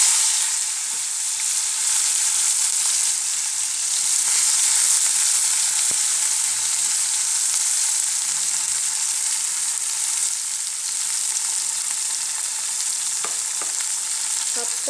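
Cumin seeds frying in hot oil with onion and chopped green chili stirred in, a steady close, loud sizzle throughout with occasional scraping and stirring sounds and no talking.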